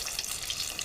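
Tomato vadas deep-frying in hot oil, a steady dense crackling sizzle that stays even and fairly loud throughout the short moment, with no voices.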